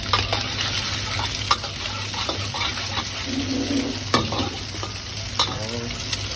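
Beaten egg with rice flour noodles is stir-fried in a pan, giving a steady close sizzle with repeated scraping and stirring strokes of a utensil throughout.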